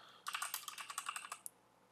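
Quick run of keyboard typing, about a dozen close crisp key clicks in a steady burst lasting just over a second, then stopping, with no talking over it.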